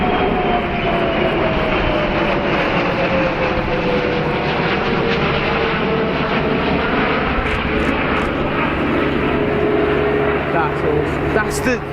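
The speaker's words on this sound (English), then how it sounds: "That's the only Voyager in that livery." A Royal Air Force Voyager tanker-transport jet flies past at the RAF Cosford airshow, a loud, steady roar with a slowly falling engine whine, while a commentator talks over it throughout.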